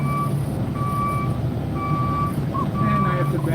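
Semi truck backing slowly onto plant scales on a snowy day, its reversing alarm repeating steady high beeps about every 1.5 seconds over a constant diesel engine rumble, with faint voices in the background.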